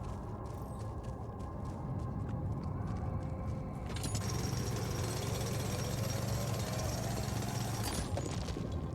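A harsh, steady mechanical grinding of a drill breaking through a rock wall in the video game The Alters, loud and continuous, intensifying midway and then easing off near the end.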